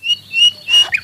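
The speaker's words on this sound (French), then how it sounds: "J'ai horreur du chant du rossignol." Nightingale song: short bright whistled phrases and rising chirps in quick bursts, fairly loud and close, with no talking.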